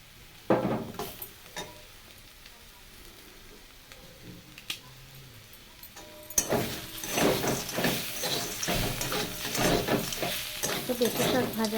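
Papaya greens stir-fried with bori lentil dumplings in a pan: quiet scraping at first, then loud, busy sizzling with repeated stirring clatter, without talk.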